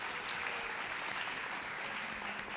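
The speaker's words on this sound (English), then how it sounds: "let's give him one more round of applause" Audience applause for a guest speaker at an international school event, a steady even wash of clapping that holds at a moderate level throughout without breaks.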